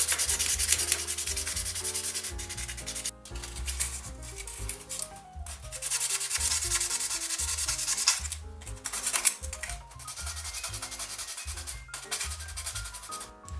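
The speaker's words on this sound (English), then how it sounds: "Of course, I also sand the plastic parts." Plastic parts of a metal Lancia 037 Ixo scale model car being sanded, a continuous close, gritty rubbing with steady back-and-forth strokes and brief pauses.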